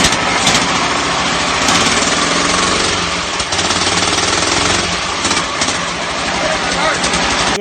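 A freshly rebuilt lawn mower engine with a straight pipe runs loud and close, a harsh rapid rattling bark that stays steady throughout.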